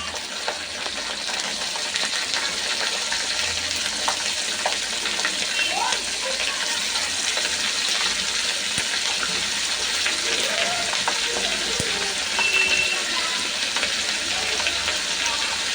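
Ginger and garlic fry in a pan for chicken kabsa biryani, making a loud, steady, close sizzle with bubbling and stirring throughout. A faint voice can be heard under it.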